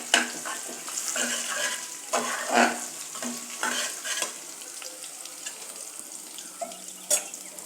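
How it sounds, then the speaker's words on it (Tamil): Black pepper frying in hot oil with ginger and cumin while making ven pongal: a soft, crackling sizzle with bursts of stirring and spoon scrapes throughout, close by, with no talking. "மிளகு போட்டு கொஞ்சம் பொரியட்டும்."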